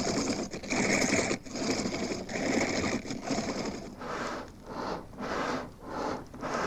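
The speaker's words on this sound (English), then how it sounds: "Stone axes were hard to make, particularly when the hole for the handle had to be drilled by means of bows," A bow drill bores a handle hole through a stone axe using bone and sand, giving steady back-and-forth rasping strokes in an even rhythm, close and fairly loud, with no voices.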